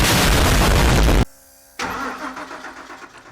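A big block truck engine cranks loudly for about a second and a quarter, falls silent, then turns over again in a rougher, uneven burst without catching.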